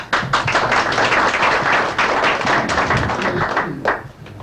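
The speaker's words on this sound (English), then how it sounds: "We deserve the applause again." An audience at a ceremony honoring a New York State commissioner breaks into loud, sustained applause, many hands clapping densely before it begins to taper off.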